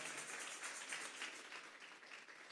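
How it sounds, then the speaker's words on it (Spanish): Congregation in a Spanish-speaking church clapping during a Sunday morning service, a steady, moderately quiet wash of many hands with a faint rhythmic pulse, continuing throughout without talk. "Vamos a darle una ofrenda de palmas a Dios en esta hora."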